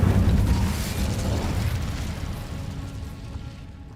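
Fire spell cast in a wizarding video game: a loud fiery burst opening the moment, then a rumbling, crackling roar that slowly fades away, with no voices.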